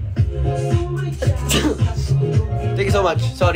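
A single abrupt sneeze bursts out in the middle of someone talking on a live stream, loud and close to the microphone.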